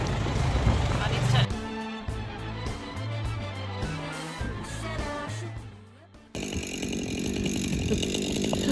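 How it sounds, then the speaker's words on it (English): A chainsaw engine runs loudly and steadily, its buzzing drone shifting in pitch, with voices talking over it. "he can start the chainsaw"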